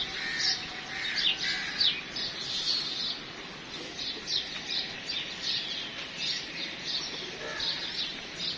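Pigeons being released call outdoors with other birds, with bursts of chirps and soft fluttering over a steady hiss of background noise.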